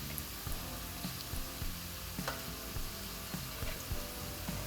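Yam masala with coriander powder and spices being stirred in a pan, a faint, soft sizzle with scattered light scrapes and taps from the spoon, close and quiet with no talk.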